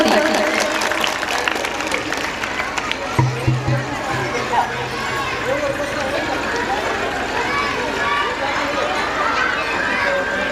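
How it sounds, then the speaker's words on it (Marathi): Audience applause fills a school hall at Ankurotsav 2025, the annual gathering of Ankuram Vidya Mandir in Washi, Dharashiv: a steady, dense wash of clapping with crowd murmur and a faint hum underneath, sustained throughout. "एकदा खरंच जोरदार टाळ्या होऊन जाऊ देत अशा व्यक्तिमत्वासाठी"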